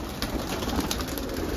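Freshly bathed white domestic pigeons, a pair kept for egg-laying, coo softly and repeatedly nearby in a short, steady burst with no talking.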